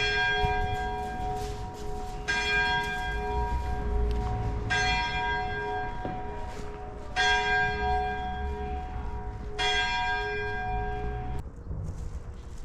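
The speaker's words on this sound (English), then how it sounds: "Got it just in time for the bells." Church bells ring out in Lancaster with several bright, resonant strikes at a slow, steady pace, each tone ringing on over a low outdoor background.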